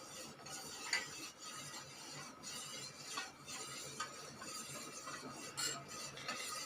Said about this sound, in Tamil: நம்ம கை விடாமல் கிண்டிக்கிட்டே இருக்கணும்